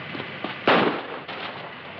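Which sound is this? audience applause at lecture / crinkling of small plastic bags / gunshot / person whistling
gunshot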